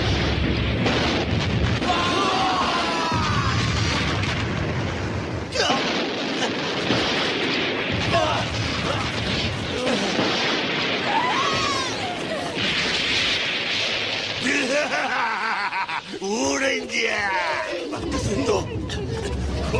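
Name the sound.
gasoline catching fire and exploding, movie sound effect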